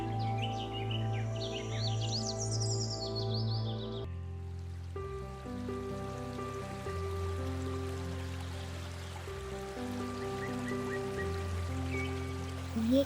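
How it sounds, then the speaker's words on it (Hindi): Birds singing and chirping over a flowing stream in Sanjay Gandhi National Park, Mumbai, a soft continuous water rush with scattered calls, under background music. "ये कलकल बहता पानी, ये झरने की महक, ये चिड़ियों की आवाज़"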